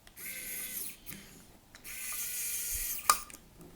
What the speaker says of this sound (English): And then if we turn things over, we can then set a screw into place.